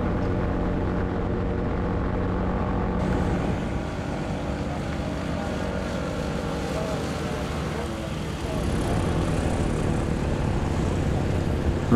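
An Aerolite 103 ultralight aircraft flies at the Oshkosh 2023 airshow, its small engine giving a steady, continuous propeller drone that holds at an even level throughout, with no voices heard.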